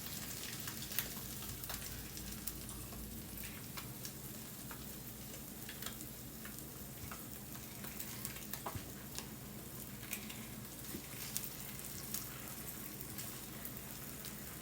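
Eggs frying in a lidded pan give a quiet, steady sizzle with fine crackling pops scattered throughout, constant and faint with no voices.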